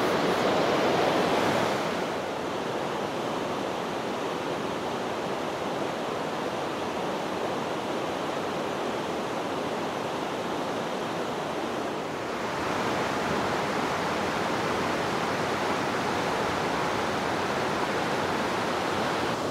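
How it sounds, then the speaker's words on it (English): A small river flows in Torridon, Scotland, as a steady broadband rush of water, loud and close, with a brief swell at the start and another around twelve seconds, and no voices. "This is a great little bit of river here."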